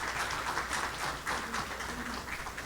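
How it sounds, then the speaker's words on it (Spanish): Church congregation applauding during a Spanish-language service, a steady dense wash of many hands clapping that fills the room without a break. "Vamos a dar un aplauso al Señor"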